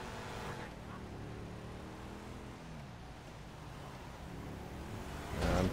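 Coil Brawler off-road car engine in the video game GTA 5, a steady low droning hum at moderate level throughout, rising in loudness at the very end.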